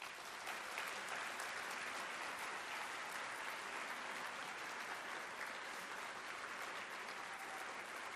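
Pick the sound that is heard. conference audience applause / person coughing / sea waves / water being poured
conference audience applause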